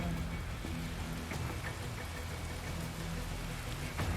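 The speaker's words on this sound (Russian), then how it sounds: "Дождик идет" Steady rain falling outdoors, a dense even patter with scattered sharper drop taps, continuous throughout and no voices.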